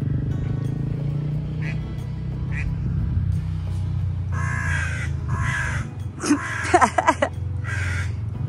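Crows caw harshly in repeated bursts over a steady low rumble of traffic. A duck quacks nearby in a sharp cluster near the end.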